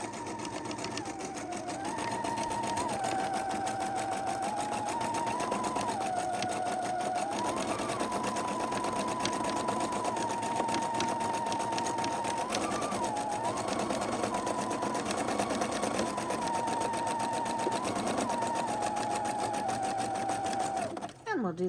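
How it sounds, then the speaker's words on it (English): A sewing machine runs steadily, zigzag stitching down both quarter-inch side seams of a tote bag, a continuous close whir with slight pitch shifts as it speeds and slows, then stopping near the end; a voice talks over it. "we're just going to zigzag down both sides of this bag where we have our 1/4 inch seams"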